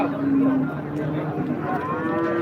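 A calf moos loudly and continuously at a cattle market, a drawn-out bovine call with a wavering pitch, close by with no talking.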